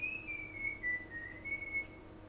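Someone whistles the melody of a song, a thin wavering solo tune carried for a few seconds over a low, steady background hum.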